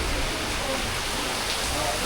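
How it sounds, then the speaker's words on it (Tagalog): Heavy rain driven by strong wind, a dense steady roar of broadband noise filling the whole stretch at constant loudness, with no distinct drops or gusts standing out. "napakalakas ng ulan tsaka hangin ni Rabi talaga"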